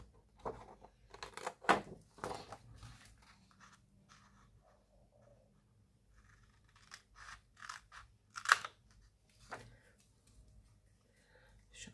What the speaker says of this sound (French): J'aime pas ce ciseau.